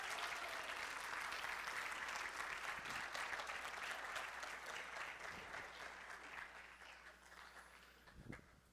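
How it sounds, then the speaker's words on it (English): Quiet, distant audience applause in a small gathering, a soft steady patter of clapping that gradually thins out, with a couple of faint thumps near the close. "Let's give Leo a round of applause."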